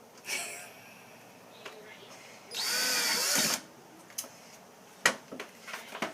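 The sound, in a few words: power drill driving screw into golf tee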